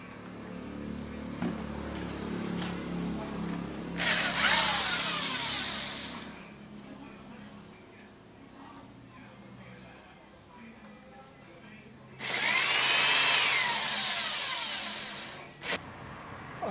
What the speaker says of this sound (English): We have to drill those holes and attach it to the boom.